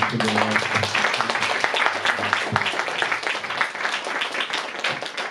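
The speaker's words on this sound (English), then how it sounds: "Let's give a round of applause" A crowd at a temple Sunday feast program applauding steadily for several seconds after a religious class, dense clapping with some voices mixed in underneath.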